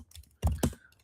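Two quick keystrokes on a computer keyboard as a short command is typed, crisp and close in a quiet room.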